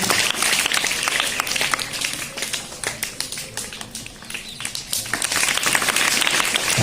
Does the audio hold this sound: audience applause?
yes